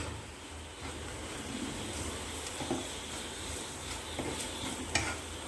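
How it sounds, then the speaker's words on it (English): Masala and onions sizzle and fry in a pan while being stirred, a soft continuous crackle at low level with occasional faint taps of the spoon against the pan. "Let all the masala get fried nicely with the onions."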